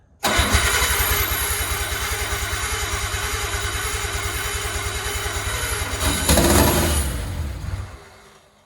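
A Nissan R32 engine cranks and catches after fuel is added, running with a loud, steady rapid chug for several seconds, swelling briefly near the end before cutting off abruptly.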